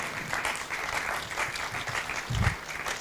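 Sustained applause fills a hall at a family-friendly side event to the ICPD25 conference as the audience keeps clapping for a woman returning to her seat, a thick, even patter with a brief low thump near the end.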